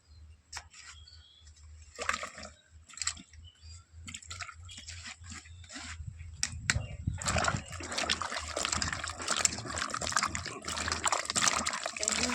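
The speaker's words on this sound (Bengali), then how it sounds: "এবার আমি পটলগুলোকে ভালো করে ধুয়ে নেব।" Cut pointed gourds (potol) being washed by hand in a bowl of water, with sloshing, dripping and trickling that starts as sparse splashes and grows into steady, fuller churning of water toward the end.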